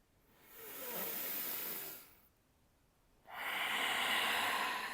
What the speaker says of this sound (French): Je t'invite maintenant à prendre 3 respirations très profondes par le nez, par la bouche.